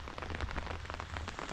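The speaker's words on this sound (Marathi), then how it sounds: "पाऊस चालू झाला," Rain falls steadily outdoors, pattering on nearby trees and surfaces as a soft, continuous wash of drops with a low rumbling background, fairly faint.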